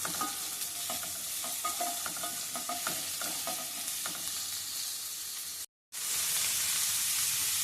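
Sliced onions frying in a pan, a steady close sizzle and crackle with stirring clicks through the first half, a brief drop to silence near the end, then the sizzle resumes.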